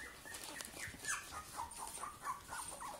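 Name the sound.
puppy whimpering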